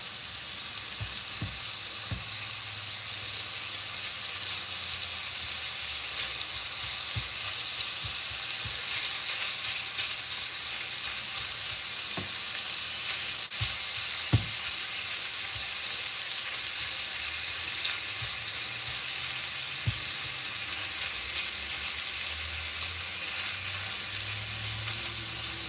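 Steady sizzle of crushed meat frying in a pan as a pizza topping, a constant broadband hiss with occasional faint clicks and stirring knocks, with no voices.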